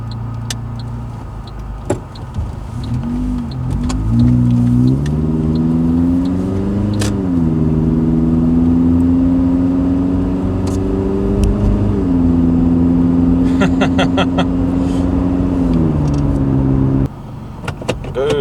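A Suzuki Grand Vitara 2.4L engine idles and then revs repeatedly through a custom 2.5-inch stainless steel exhaust, the pitch rising and falling in loud, sustained surges.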